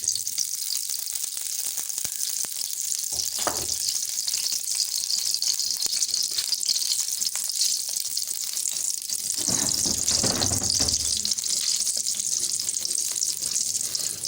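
Ghee melting in a kadhai for Balochi tikka karahi gives a steady, fairly loud sizzling hiss that fills the whole stretch, with a couple of brief clatters from the pan along the way.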